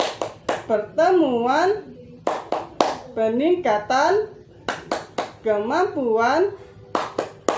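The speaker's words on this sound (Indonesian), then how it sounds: "Kita tepuk P2 K2." Group of women in a community finance meeting doing a rhythmic patterned clap in bursts of sharp hand strikes, alternating with a leader's loud voice calling between them.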